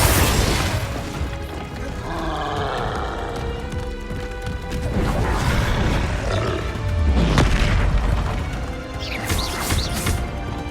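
Blasting spell bursts in Hogwarts Legacy, a fiery game combat explosion, heard as repeated loud booms and crackling blasts layered over continuous roaring battle noise and effects, with no voices.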